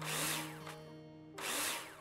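In the video game Builder Simulator, a power drill drives in screws with two loud whirring bursts, each rising and then dropping off, separated by a short quieter gap with no talk.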